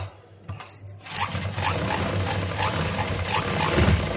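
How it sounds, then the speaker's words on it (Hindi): A sewing machine runs a zigzag stitch along a garment neckline, starting after a brief quiet moment and then whirring steadily and close up, with a fast, even mechanical chatter throughout. "जिग-जैग करते हुए सिलाई लगाएंगे"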